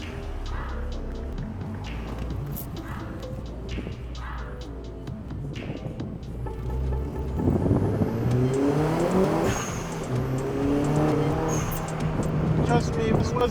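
A tuned Mini, built as a contender for fastest in the US, revs and accelerates under way, its engine note climbing loudly while occupants talk over it.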